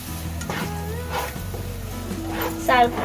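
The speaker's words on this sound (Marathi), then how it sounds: "आता हा मी पीठ पिठल्याचं घालते हे ना सारखं हलवीत बसायचं" Gram flour batter for pithla being stirred in a pan, with a steady sizzle and repeated scraping strokes under faint background voices.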